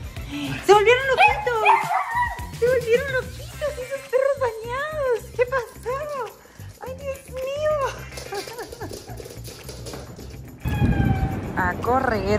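Several freshly bathed dogs bark and yip excitedly in quick bursts, with whimpers and high yelps, close by, while a person talks over them in Spanish.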